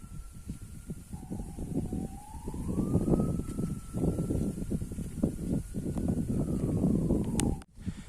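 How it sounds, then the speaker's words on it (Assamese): An ambulance siren wails on a hot day beside a road near fields. Its long, slowly rising and falling tone sounds at moderate distance over a steady bed of traffic and outdoor noise. "এতিয়া কিবা এটা আপোনালোকে শুনিব পাইছে না, এম্বুলেঞ্চ"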